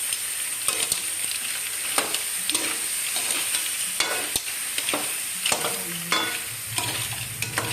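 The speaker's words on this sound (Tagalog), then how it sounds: "Ito muna ang tahong gusto ko maluto." Mussels sizzle steadily in a hot pan as they are stirred, with repeated scraping and clinking strokes of a utensil over a constant frying hiss, close and alone.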